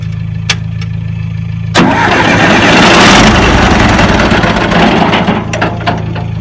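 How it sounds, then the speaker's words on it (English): A 50-year-old John Deere 450 dozer engine with a converted GM one-wire alternator cranks over loudly and close, the starter churning for several seconds after a steady hum and a couple of clicks. "But I'm gonna should crank over now."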